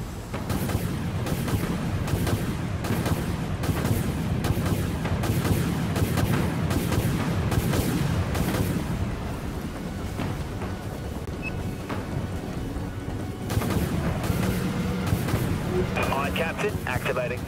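Missile and torpedo fire in the naval combat game Dreadnought, a dense run of rapid booming launches and blasts over a rumbling engine drone, with a pause mid-way before firing resumes; voices speak over it.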